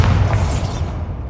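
A short, loud Bombarda spell explosion in Hogwarts Legacy: a heavy, booming burst with a deep low rumble that lingers briefly.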